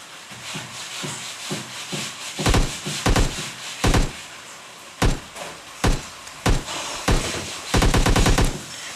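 An MK rifle fires in a battle royale video game, loud and close, in short bursts and rapid volleys with brief gaps between them.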